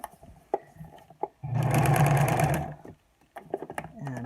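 A sewing machine stitches close beside a pipe cleaner on a reversible fabric face mask in one rapid, steady burst of about a second, between quieter handling noises and someone talking.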